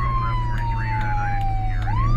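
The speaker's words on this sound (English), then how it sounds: "With sirens blaring and lights flashing" Police car siren wailing close and loud in a steady rising and falling tone over a low engine hum, a couple of sharp clicks breaking through.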